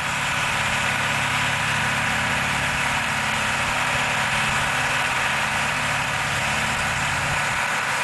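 A backhoe engine runs at a gas pumping site, giving a loud, steady, low rumble that holds unchanged throughout with no voices over it.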